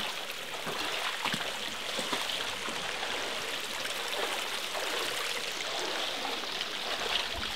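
Several small waterfalls pour into a pool on an island, a steady close splashing rush of water with no other sound.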